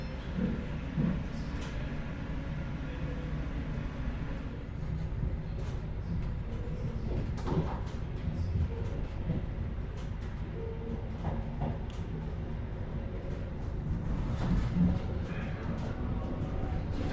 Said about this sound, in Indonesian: kereta api Majapahit mulai meninggalkan stasiun Pasar Senen